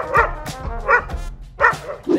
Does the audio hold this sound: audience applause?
no